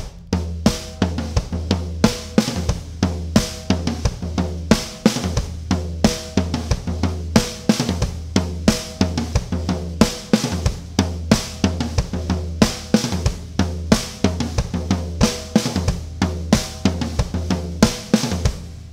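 Drum kit groove built on toms with the left hand working the snare, eighth-note snare hits ringing out; steady, punchy repeating pattern played loud and alone for the whole stretch.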